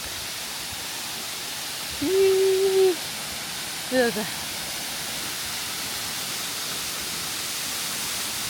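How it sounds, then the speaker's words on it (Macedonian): Palenk waterfall in Logarska Dolina, Slovenia, a steady broadband roar of falling water that carries unbroken through the whole stretch, with a few brief spoken words over it. "Ево го сега ми кажа водопад Паленк."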